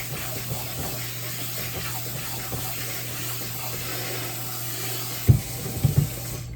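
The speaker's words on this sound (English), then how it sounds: "So I'm gonna rinse this off in cold water." Cold tap water runs steadily over carrots being rinsed in a kitchen sink, a constant close hiss with a few soft knocks near the end.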